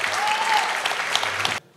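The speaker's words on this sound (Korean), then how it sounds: "다시 한번 큰 박수로 환호해 주시기 바랍니다" Loud, dense applause from party lawmakers welcoming the president at a parliamentary members' workshop, sustained clapping with a brief high cheer near the start, cutting off abruptly at the end.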